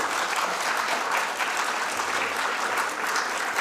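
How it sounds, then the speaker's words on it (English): A full audience at a talk on the racial politics of the Nadir gives the panel speakers a round of applause, loud, dense clapping that continues unbroken throughout. "Please join me in giving them a round of applause."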